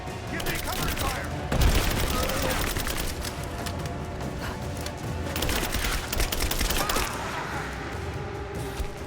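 Dense, continuous gunfire and rapid bursts in the video game Rise of the Tomb Raider during a prison break firefight, loud and sustained with heavier booming shots mixed in.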